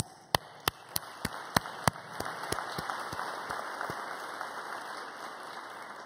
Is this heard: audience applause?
yes